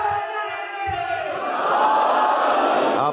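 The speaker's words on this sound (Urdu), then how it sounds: "بھائی یہ جب باہر سے نعرے کی آواز آتی ہے نا، مجھے ذرا زیادہ حوصلہ ملتا ہے." A large crowd outside chants religious slogans at a Muharram gathering in an imambargah, a loud, steady massed roar of voices that swells slightly and holds for a few seconds.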